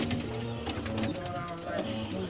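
Pigeons cooing in a breeding loft holding young grizzle pigeons, a steady low murmur of overlapping coos close by, with faint clicks and shuffling throughout.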